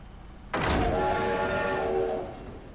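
A tram horn from the Santa Teresa tram in The Simpsons: Tapped Out game sounds once, a loud sustained tonal blast with a sharp onset, holding for about two seconds before fading, with no talk over it.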